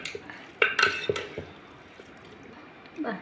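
Salt being mixed into mango pickle pieces with a utensil: soft, quiet scraping and clinking against a vessel, a few sharper knocks early on, then faint shuffling.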